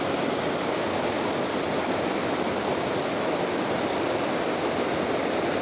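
Steady, loud roar of Mae Wa Waterfall in Mae Wa National Park, Lampang, Thailand, rushing water pouring down without a break, filling the whole space with dense, unchanging noise.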